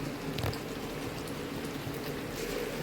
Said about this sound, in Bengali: তো মাংসটা ভালো করে কষতে দিয়েছি, হালকা একটু জল দিয়েছি যাতে একটুখানি সিদ্ধ হয়।